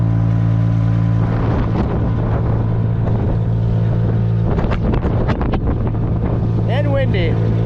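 Wind buffets the microphone with a loud, constant low rumble on a farm by a silo, while clattering knocks and a brief high squeak sound through it.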